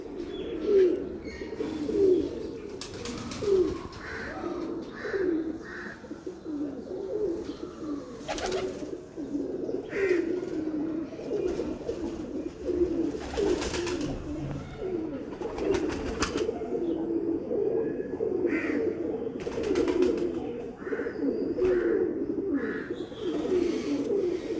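Thanedar-breed breeder pigeons from Kasur coo in a steady, overlapping chorus, close and continuous, with soft wing flutters and occasional chirps over a low room hum.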